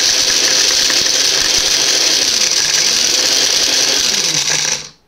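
Mixer grinder grinding soaked almonds, a loud steady high-pitched motor whine with grinding rattle running continuously, then cutting off abruptly near the end.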